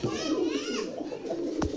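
Deshi Rajgolla pigeons coo close by in a low, throaty murmur, with a brief higher call and a short sharp sound near the end, and a voice faintly in the background.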